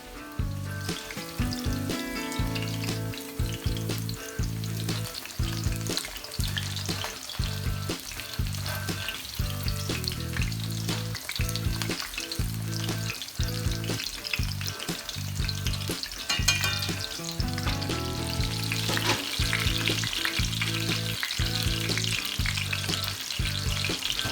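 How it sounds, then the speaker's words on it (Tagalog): Chicken katsu crackles and sizzles steadily in oil in a cast iron pan, a dense close frying hiss with regular soft knocks and stirring scrapes throughout, no voices. "Done na tayo sa pag-fry ng chicken."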